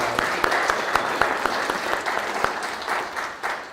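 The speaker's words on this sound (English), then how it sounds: "Let's give them a big round of applause for a great morning" Audience applause after a morning session at a MedTech Monday event, a steady dense wash of many hands clapping, fairly close and sustained throughout with individual sharp claps standing out.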